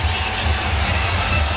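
A large basketball crowd fills the Alamo Dome during the 1999 NBA Finals Game 2 between the Knicks and Spurs, a steady, dense roar of many voices close and continuous throughout.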